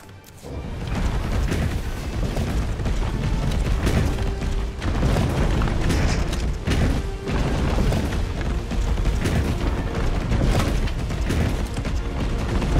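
Gunshots fired in Resident Evil 3, a run of loud booming blasts spaced every second or two over a dense, rumbling background.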